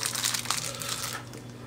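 A small plastic bag crinkles as it is unpacked from a budget lavalier microphone kit, close and fairly loud, with dense continuous rustling that eases off toward the end.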